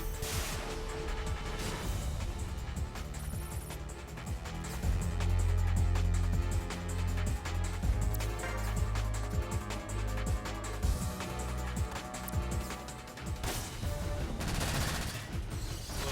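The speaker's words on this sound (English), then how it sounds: "now we switch out to the missile launcher, of course. I think attacking this turret is a good idea." In the video game Front Mission 5: Scars of the War, a missile launcher fires at a turret amid a dense run of booming blasts and rattling gunfire. A heavy low rumble swells midway and there is no talk.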